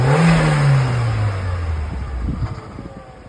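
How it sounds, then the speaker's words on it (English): A Volkswagen Passat 1.8 turbo engine revs up loudly, then the pitch slides down as it winds back toward idle, close and without talking. "here's a clip of me revving the engine"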